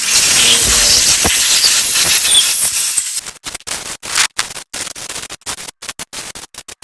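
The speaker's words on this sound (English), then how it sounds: "So I'm going to use some compressed air here." Compressed air blasts over the parts of a Dyson V10 cordless vacuum cleaner while drying them, first a loud continuous hiss for about three seconds, then a rapid series of short, sharp bursts up close.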